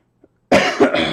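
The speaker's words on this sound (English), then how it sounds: "I've died of coughing." Two loud, close coughs from one person, a harsh burst followed quickly by a second, after a brief faint throat sound and near silence.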